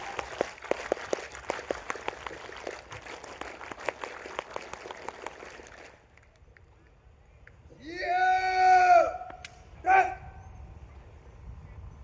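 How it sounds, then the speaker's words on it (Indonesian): Scouts at the opening ceremony of a Pramuka campsite on a village field clap in a rapid, sharp rhythm for about six seconds, then stop and are followed by tonal voices. "2 kali tepuk Pramuka."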